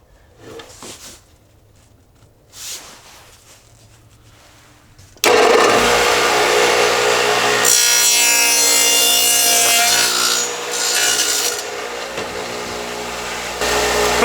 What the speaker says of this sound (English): I have the Forrest Dado stack from November 2001 mounted onto the saw again. I'm going to start out with oak plywood.